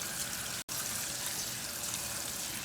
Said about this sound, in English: Drain the tapioca pearls into a colander and rinse them off with cold water.